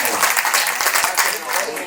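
An audience at an annual day celebration applauds in a dense burst of clapping, loud and steady for about two seconds, mixed with some voices.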